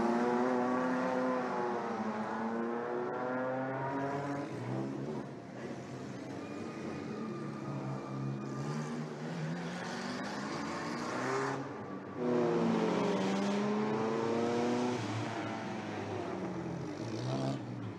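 Vintage Bugatti race cars lap the street circuit of the Circuit des Remparts, engines rising and falling in pitch as they pass loud and close, one after another, with no voices over the continuous roar.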